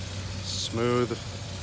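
A 2005 Nissan Xterra SE 4x4 engine idles smoothly with a steady, low, even hum, and a brief voice sounds over it partway through.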